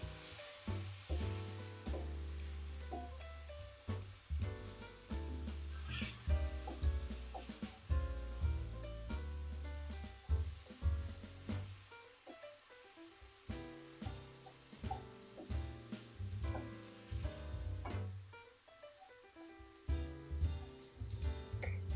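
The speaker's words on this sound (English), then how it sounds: "And add your 250 grams of arborio rice. Give that a stir into the mixture." Arborio rice is stirred into a sizzling mixture in a pan for a spring garden risotto, a quiet continuous frying hiss with soft stirring scrapes, partly masked by background music.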